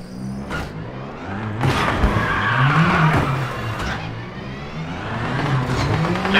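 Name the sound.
rally car driving and braking over snow in video game WRC 8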